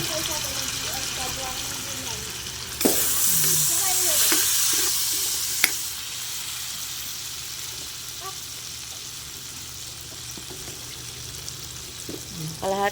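Shrimp hitting hot butter and garlic in a pan, a loud burst of sizzling that settles into a steady, close frying crackle, with a few clinks of utensils.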